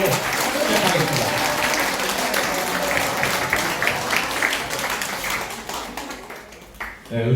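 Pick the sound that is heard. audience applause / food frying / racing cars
audience applause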